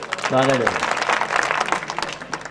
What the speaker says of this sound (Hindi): आपकी अनुमति हो तो ताली बजा के अनुमति दो।